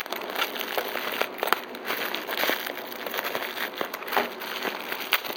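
A parcel wrapped in lots of tape is pulled open, giving continuous close crinkling and crackling of tape and packaging with small tearing snaps, at a fairly low, steady level.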